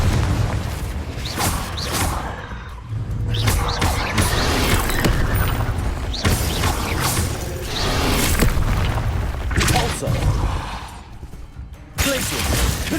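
Confringo explosive spell blasts from Hogwarts Legacy, loud booming bursts with whooshing casts and shattering debris, repeated several times amid busy combat effects.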